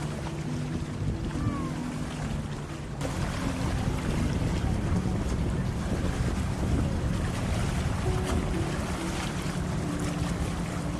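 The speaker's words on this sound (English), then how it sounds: "so we had a lot of boats going around this day" Boats motoring around Lake Lanier on a busy Memorial Day weekend, a steady wash of engine drone, wind buffeting the microphone and lapping waves filling the whole stretch, with a brief shift partway through.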